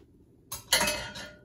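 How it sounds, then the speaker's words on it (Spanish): A spoon stirring pumpkin atole thickened with cornstarch in a metal pot, with a few close, bright clinks and scrapes against the pot over a quiet background. "hay que moverle sin dejar de mover para que no se empiece, ahora sí que, a sentar en el fondo y se empiece a pegar"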